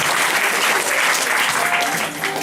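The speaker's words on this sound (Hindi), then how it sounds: "जोरदार ताली से।" A church congregation at a healing service applauds loudly, a dense, steady wash of clapping from many hands that fills the space and fades slightly near the end.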